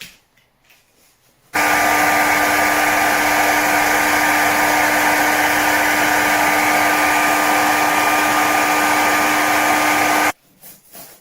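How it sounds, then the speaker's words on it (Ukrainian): Hair dryer heating the windlass of a seventh-generation CAT tourniquet, switching on abruptly and blowing with a loud, steady whine and airy rush for about nine seconds before cutting off. "зараз ми проведемо другу маніпуляцію, тобто нагрівання турнікету, нагрівання воротка за допомогою фена"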